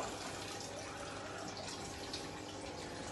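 Water overflows through a DIY automatic aquarium overflow mechanism fed by a 1,200 liter per hour pump, a steady close trickling and splashing flow that continues evenly throughout.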